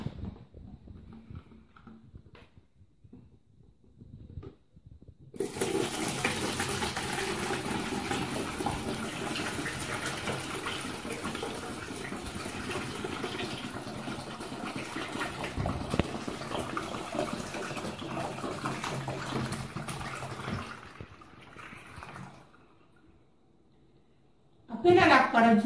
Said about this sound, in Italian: Successivamente travasiamo l'acqua con l'imbuto nella bottiglia forata.